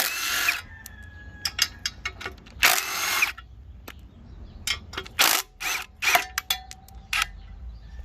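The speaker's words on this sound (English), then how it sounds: "we're going to go ahead and take off the pressure plate and the clutch" Ratchet clicking in short bursts while the clutch and pressure plate come off a Honda K20 engine, several quick loud ratcheting runs separated by brief pauses, close by with no talking.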